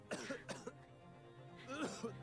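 A character in The Great Ace Attorney video game gives a few short, quiet coughs and throat-clearing sounds in a brief cluster, followed by a pause and then another cough.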